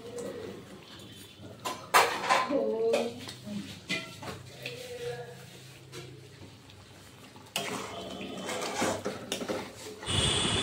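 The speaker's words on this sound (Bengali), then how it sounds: "পনির এবার মশলাটাকে ভালোভাবে কষিয়ে নেব।" Spice paste for paneer being stir-fried in a pan, with intermittent scraping and clanking of a metal spoon against the pan, sizzling underneath and a few louder knocks, plus faint background voices and birdsong.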